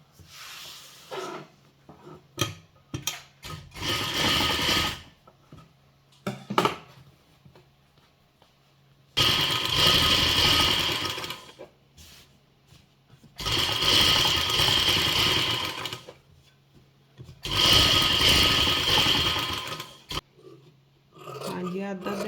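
A sewing machine stitches a neckline onto a shirt, running in several sustained bursts of a few seconds each with short pauses and small handling noises between them.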